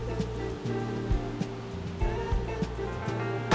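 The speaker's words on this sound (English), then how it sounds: "we'll go have a sit in the waterfall, eh, Mel?" Water from an outdoor waterfall pours and splashes steadily over rocks, a continuous broadband rush with a few louder surges, close by and alone.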